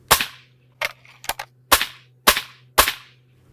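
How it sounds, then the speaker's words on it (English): Six sharp, loud cracks from a Crosman MTR77 NP .177 air rifle firing 5.5 grain H&N Field Target Trophy Green lead-free pellets at supersonic speed, spaced roughly half a second apart over a faint steady hum. "the pellets came cracking out of the barrel at supersonic speeds"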